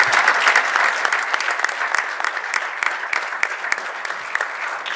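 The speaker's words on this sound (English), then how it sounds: "Double clap for him." An outdoor crowd at a City of Calexico event claps steadily for a player being introduced. The applause is dense and continuous for several seconds, with no talk over it.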